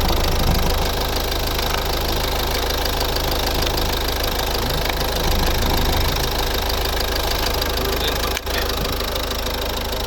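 A 2011 Volvo V50 1.6-litre four-cylinder diesel engine idles steadily up close, with a low, even knocking rumble that carries through without a break.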